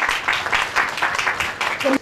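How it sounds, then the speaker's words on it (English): Brief applause breaks out at an awards dinner, uneven bursts of clapping from the room that pulse and fade, with a voice briefly heard near the end. "Please give them a round of applause."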